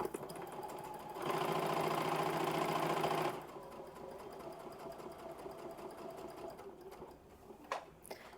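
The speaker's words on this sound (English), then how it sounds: "So I'm just going to sew." A sewing machine stitches quilt seams in one steady two-second run, close and clear, followed by quieter handling and faint clicks of fabric being adjusted.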